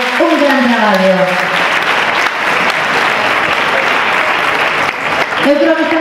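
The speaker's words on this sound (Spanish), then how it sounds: "Forte aplauso para os membros do xurado que tiveron un gran traballo." Loud, sustained applause from a crowd for a competition jury, with clapping filling the clip and a voice speaking in Galician over it at the start and end.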